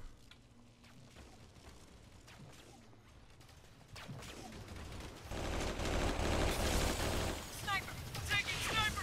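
Blaster-style gunfire in Star Wars Battlefront 2 (2005) with a Halo mod, scattered shots and bursts building into dense, loud fusillades with whooshes and booms over the second half, under a busy battle mix.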